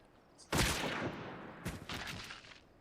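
Sniper gunshots in the video game Final Fantasy 14: two loud, sharp cracks about a second apart, each followed by a rattling, echoing tail, with no voices over them.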